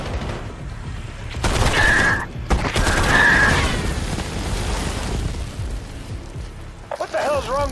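Gunfire rings out in the video game Call of Duty Black Ops 7 as a few loud bursts and booms in the first half, followed by a lingering rumble and sharper mechanical clatter at the end.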